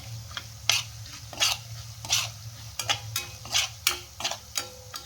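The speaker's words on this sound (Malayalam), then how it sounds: "മഞ്ഞൾപ്പൊടി, കായം, ഉലുവാപ്പൊടി നമുക്കൊന്ന് ചേർത്തൊന്ന് ഇളക്കി കൊടുക്കാം" A spoon stirs turmeric, asafoetida and fenugreek powder in a pan for pickle, giving about nine regular scraping strokes over a soft sizzle, close and clear without talk.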